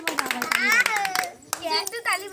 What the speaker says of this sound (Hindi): ताली बजावा ताली बजावा थे